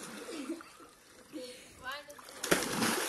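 An idol statue splashing into a swimming pool, a sharp, loud splash near the end after quieter sloshing, with someone talking throughout.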